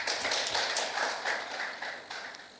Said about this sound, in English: Please clap for yourselves.